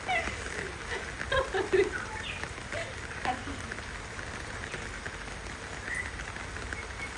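Rain falls steadily in a continuous soft patter, with a few brief louder calls or knocks early on.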